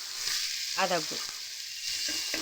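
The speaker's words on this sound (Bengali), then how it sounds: "আদাটা খুব ছিটকে আসছে" Ginger paste sizzles and spatters in hot oil in a pan while a papaya curry is cooked, a continuous close hiss with crackles and a brief vocal sound partway through.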